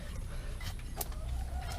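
Chickens cluck in a backyard chicken coop freshly covered with mulch, giving short soft calls over steady low background noise, with no talking.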